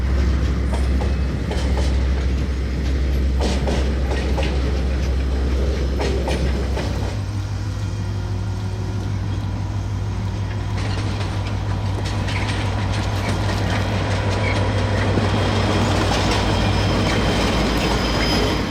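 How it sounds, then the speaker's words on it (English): A diesel locomotive of the New Zealand DL class hauls a heavy freight train steadily past close by in the Manawatu Gorge, with a constant engine drone, rhythmic wheel clatter and occasional metallic squeals. "the DL class, passes F163 with a Napier-bound freight train"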